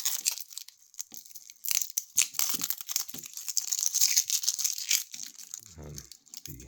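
Protective plastic stickers peeled off a steel watch bracelet and clasp close up, a series of short crinkling, tearing rips with brief pauses and occasional handling noises.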